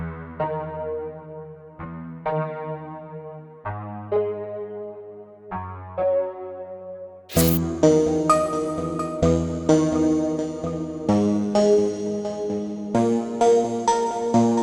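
A Nexus ambient guitar preset run through Gross Beat half-speed, RC20 wobble and chorus: wavering, warbly plucked chords, sparse at first, then a fuller and brighter section with more layers joining halfway through.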